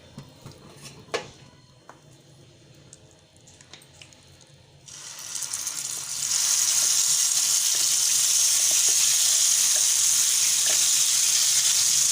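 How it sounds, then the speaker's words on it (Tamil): Ground chana dal being sautéed in ghee for burfi, with a few clinks of utensils at first, then a sudden, sustained loud sizzle that stays steady. "நெய்யிலே நல்லா வதக்கிக்கலாம் கடலை மாவை."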